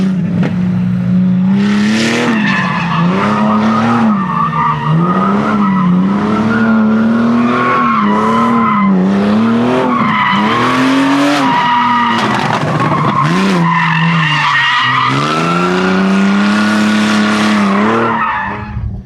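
A drifting car's tires squeal loudly and continuously, the pitch wavering up and down as the slide changes, with the engine revving underneath, close and sustained for most of the stretch before easing off at the end.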